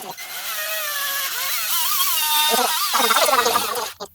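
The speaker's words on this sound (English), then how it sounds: "I've got the drill on low speed." An electric drill mixing paint at low speed whirs steadily at close range, its motor pitch wavering up and down, then cutting out briefly near the end.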